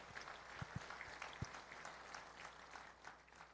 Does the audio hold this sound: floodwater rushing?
no